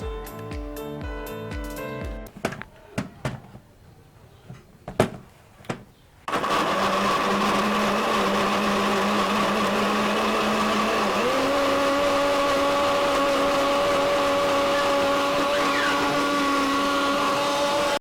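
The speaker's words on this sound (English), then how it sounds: "Then they blend." After a few clinks and knocks, a kitchen blender roars to life and churns orange cake batter with a loud steady whine whose pitch shifts partway through as the mixture thickens.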